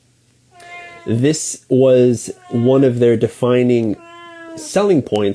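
A cat meows repeatedly, loud and close, with a drawn-out, emotional caterwauling quality, while a person talks alongside it.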